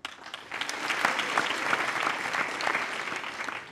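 A theatre audience at a live French-language comedy show breaks into sustained applause, building quickly after a brief start and holding steady for several seconds.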